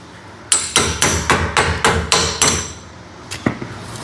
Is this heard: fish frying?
no